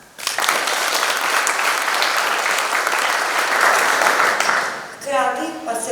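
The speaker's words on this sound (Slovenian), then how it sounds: "ki si zaslužite en res velik aplavz" Loud, sustained applause from a large audience after adult folklore group performances on stage fills the hall continuously, then fades as a voice begins speaking near the end.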